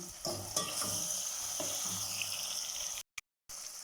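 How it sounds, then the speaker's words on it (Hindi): Masala with red chili and turmeric fries in a pan for chana dal, a close steady sizzle with a few stirring clinks, then a brief dropout before the sizzle resumes; no voices. "मसाले को हम फ्राई कर लेते हैं।"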